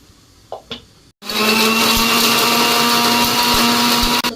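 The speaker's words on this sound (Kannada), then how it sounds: "ಇದು ಇಷ್ಟು ಮಾತ್ರ ರುಬ್ಕೋಬೇಕು" A mixer grinder whirs loudly, blitzing whole spices such as cloves and cinnamon pieces for biryani masala, starting abruptly after a brief pause and a few small knocks, then a steady, harsh, full roar with occasional thumps.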